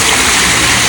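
Illuminated water fountain splashing steadily, a loud continuous broadband rush of falling water with no pauses throughout.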